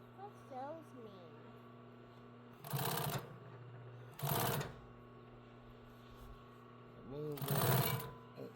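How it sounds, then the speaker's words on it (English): A sewing machine whirs in three short bursts between quiet pauses, with a steady low hum and a brief voice at the start. "Sewing machine. What that do? Sews."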